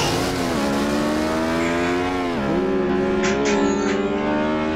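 Car driving in BeamNG.Drive, a steady engine drone with rising and falling tonal pitch as the car accelerates and shifts, with brief scraping impact noises near the end and no speech.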